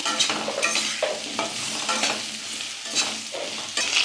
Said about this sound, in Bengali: আলুগুলোও লাল লাল করে ভেজে নেব একটু